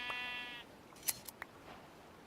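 A single short sheep bleat in a video game opens, followed by a few faint clicks and snips in an otherwise quiet space.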